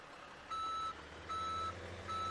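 A truck in Farming Simulator 17 reverses, with three evenly spaced electronic backup beeps over a low engine hum, no voices.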